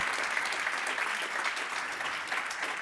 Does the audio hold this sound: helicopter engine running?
no